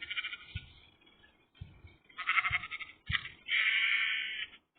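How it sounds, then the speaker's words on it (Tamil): Goats in the video game World Craft bleat in a series of short, nasal calls, the last one longer and louder, alone and clear against a quiet background. "இங்க 2 ஆடுங்க இருக்கு."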